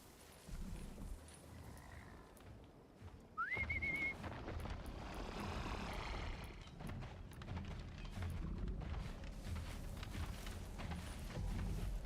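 Whistling in Horizon Zero Dawn: one short rising whistle climbs then holds a steady tone, set over clip-clop hoofbeats of a machine mount and busy game ambience.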